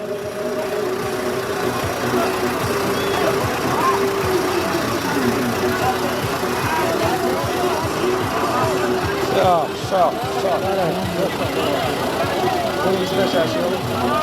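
A tractor engine runs steadily at a medium pitch through a busy outdoor village wedding gathering, with voices and crowd noise over it throughout.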